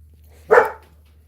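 A single short bark from a large 100-pound dog, fairly close, over a low steady background hum.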